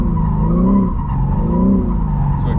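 A BMW M3 drift car slides sideways with a loud, sustained tyre squeal that wavers in pitch, its engine droning underneath, close and without speech.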